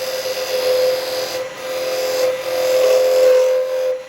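A small tenon tool cuts into a spinning ring box blank on a woodturning lathe, giving a steady, close scraping rasp with a constant motor hum underneath.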